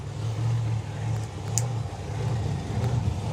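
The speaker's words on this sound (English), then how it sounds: "that car burns out incredibly well as well" A drag racing car doing a burnout at the FIA/FIM Euro Finals 2025, a loud, steady engine roar with a low droning rumble that holds for several seconds, wavering slightly in pitch.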